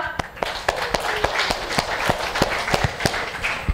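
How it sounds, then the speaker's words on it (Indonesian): An audience at a national elementary school storytelling competition grand final claps together in a steady, regular rhythm, the sharp claps landing about four times a second over a low background murmur. "Tepuk tangan untuk kita semua"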